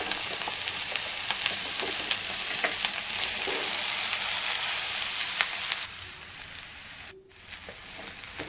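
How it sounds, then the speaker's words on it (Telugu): Pieces of spiny gourd sizzle steadily in hot oil in a pan while being turned, with a loud, dense crackle that drops somewhat quieter near the end; no voices. "ఇవి ఫ్రై అయ్యిందాక తిప్పుకుంటూ ఉండాలి."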